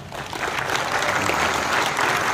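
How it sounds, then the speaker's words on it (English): An audience at an auction opening at Knott's Berry Farm gives a round of applause, steady dense clapping that swells and holds, fairly close and loud. "Give yourselves all a big round of applause"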